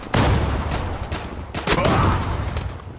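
Gunfire in a shooting video game, a burst of sharp shots followed by a second loud volley a moment later, close and punchy with no talk over it.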